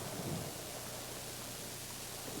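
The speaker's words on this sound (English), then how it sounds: "I'm driving right now in this rain" Rain falls steadily around a moving car, a constant even hiss of drops over a low road rumble, with no other sound standing out.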